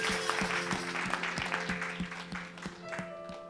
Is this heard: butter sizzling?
no